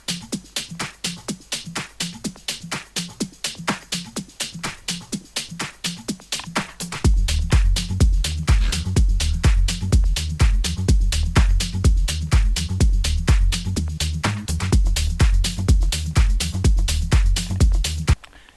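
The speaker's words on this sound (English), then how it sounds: "It's just a small beat loop basically with a bass." Tech house beat loop built in FL Studio, with tight rapid percussion hits and a funky bass line entering about seven seconds in, loud and steady with no talking.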